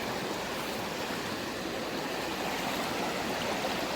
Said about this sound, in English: There's a stream coming in from the other side there